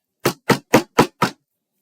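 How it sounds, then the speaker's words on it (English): Five hard knocks on a door, evenly spaced and loud, close and sharp, each a crisp thump followed by silence. "So I knock harder."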